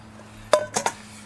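A metal pot is set down on a SOTO Wind Master 4Flex stove trivet, giving three quick close clinks and rattles against a quiet background.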